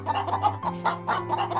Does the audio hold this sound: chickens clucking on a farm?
yes